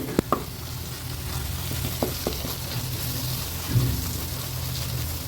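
Steady sizzle of chili and turmeric frying in a pan for cauliflower kurma, with a few scraping knocks of a spoon stirring, close and continuous throughout.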